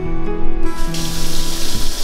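Water from a tap runs steadily into a newly installed kitchen sink, a continuous close splashing stream lasting the whole moment with no voices.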